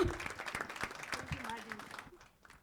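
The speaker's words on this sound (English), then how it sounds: "So the two ladies are already applauding each other" Sparse, light hand clapping from a few people in a conference hall sounds under and between talk and fades out near the end.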